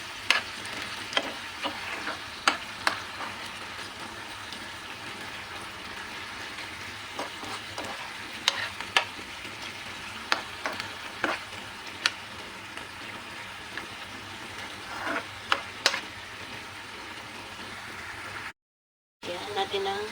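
Dried fish and vinegar stirred in a frying pan, a quiet continuous sizzle broken by repeated light scrapes and taps of the spatula, with a brief silent gap near the end.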